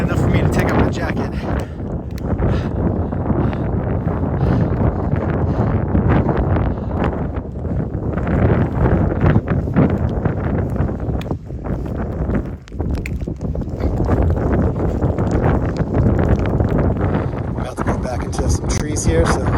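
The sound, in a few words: wind blowing on a mountain trail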